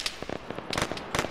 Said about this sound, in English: Okay, now they're shooting at me.